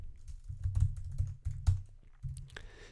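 Typing on a computer keyboard while writing JavaScript code, quick irregular clicks close to the mic, bunched in short bursts with brief pauses, no talking.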